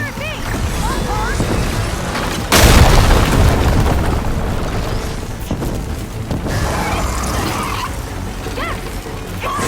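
A power core blasted in the Horizon Forbidden West game, a sudden loud booming burst that swells into a dense rumbling crash, with voices speaking over it.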